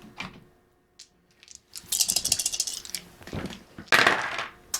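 Plastic HeroQuest combat dice rattle and clatter across a tabletop in two short bursts, close and fairly loud, with scattered small knocks between rolls.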